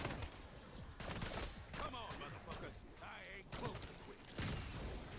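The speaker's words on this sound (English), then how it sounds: "the orb is going to shoot some zombies" In Black Ops 6 Zombies on the Terminus map, an orb fires at zombies, a rapid volley of gunfire-like shots and thuds in the game mix, with talk over it.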